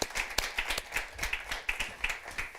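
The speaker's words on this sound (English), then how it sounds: "So a little applause." Sparse, fairly faint clapping from a small group at an AI and global health conference, a few seconds of uneven hand claps with no talk over them.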